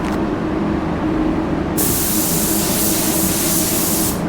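A spray gun lays down a second coat of finish in a long continuous hiss, with a sharp burst of brighter spray partway through that runs steady to the end, close and loud with no talk.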